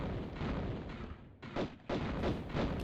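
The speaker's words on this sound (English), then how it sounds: "I'm just going to use the regular pistols" Pistol shots from Lara Croft's twin pistols in the 1996 Tomb Raider video game, a few dense bursts of gunfire with brief gaps, loud over game ambience.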